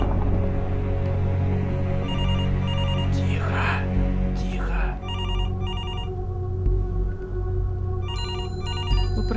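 A telephone rings in repeated electronic bursts inside a Minecraft maniac pizzeria map, over a steady game drone and hum with brief whooshing effects.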